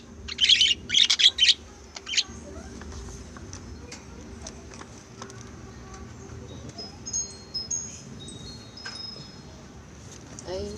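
Pet lovebirds chirping, heard as a quick cluster of bright chirps near the start and a few fainter chirps later over a steady background hum.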